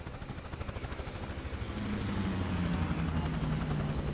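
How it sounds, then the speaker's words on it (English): A Huey helicopter in Microsoft Flight Simulator 2024, its rotor chopping in a fast, even pulse that swells louder and steadier partway through, with no talk. "Wish that Huey was a little louder"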